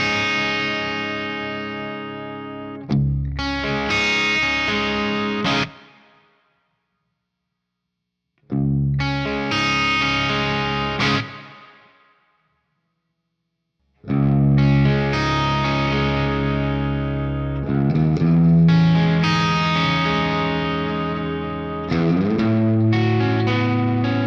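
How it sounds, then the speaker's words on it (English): Distorted electric guitar chords through a Badcat Jet Black EL84 amplifier with its reverb on, played in several phrases separated by silences, with reverb trailing off at the ends of passages. "Let's turn on a little of those beautiful reverb here"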